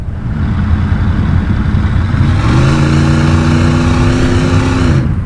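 Under heavy throttle, a 1989 Chevrolet Camaro IROC-Z with a 5.7 TPI V8 pulls hard; the loud, close engine rumble swells midway into a rising, sustained growl that eases off at the end.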